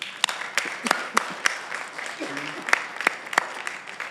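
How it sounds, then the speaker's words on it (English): Workshop attendees in a meeting room give a modest round of applause, with a handful of distinct close claps over softer scattered clapping and a brief murmur of voices. "Let's give them all a round of applause."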